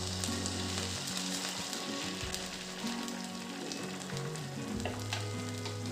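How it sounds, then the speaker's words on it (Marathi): Fasting dhirde batter sizzles steadily in a hot frying pan as spoonfuls go in, a soft continuous crackle with faint clinks of the spoon and no voices. "धिरड्याचं पीठ असं आपण चमच्याने थोडं थोडं टाकून घेऊ."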